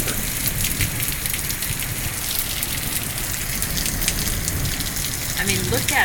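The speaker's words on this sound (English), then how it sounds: "this is good rain here" Heavy rain pours onto an Arizona street in a soaking downpour, a dense, steady hiss of drops close by that holds at full strength for the whole stretch.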